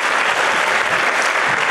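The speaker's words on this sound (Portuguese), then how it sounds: "Salve de palmas pro Largatixa." Loud, dense audience clapping fills a brief moment at a comedy hypnosis show, a close, continuous burst of applause with no pauses.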